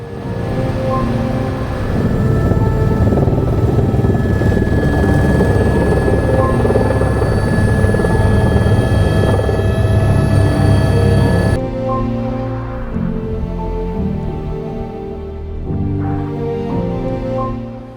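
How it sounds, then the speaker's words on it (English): A helicopter flying toward Lukla in the Himalayas makes a loud, steady rotor thrum with a constant engine whine throughout, dropping abruptly to a lower, muffled drone partway through. "This would be my first time landing in Lukla in a chopper."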